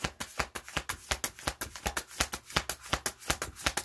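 Tarot cards are shuffled by hand in quick, rhythmic riffles, a steady train of crisp flutters and taps, close and fairly quiet, with no talk.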